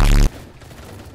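One loud, close gunshot from a gun in the game Assault Fire, an abrupt blast lasting about a quarter second before cutting to a faint low tail.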